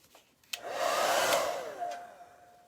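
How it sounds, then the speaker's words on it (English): A handheld hair dryer switches on with a click and blows a loud, steady whooshing rush for about two seconds before tapering off, with no talk. "get my hair dryer"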